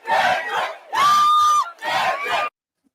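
Loud crowd at a concert roaring and shouting in three bursts, the middle one carrying a sustained yell, then sudden silence.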